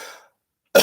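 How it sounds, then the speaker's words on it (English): A single rough throat clearing bursts out loudly near the end, following a brief faint breathy sound and a moment of silence. "let me clear my throat"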